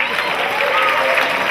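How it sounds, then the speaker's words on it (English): A crowd at a comedy show in a theatre claps and applauds, a loud, continuous roar of many hands at steady level with cheering voices and chatter mixed in. "Other people in the back clapping."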